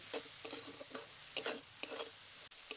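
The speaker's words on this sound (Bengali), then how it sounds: "এবার ভালো করে কিছুক্ষণ কষিয়ে নেব।" A spiced coconut filling with Kashmiri chili powder and sugar being stir-fried in a pan for stuffed bitter gourd, faint sizzling under periodic scraping strokes of the spatula.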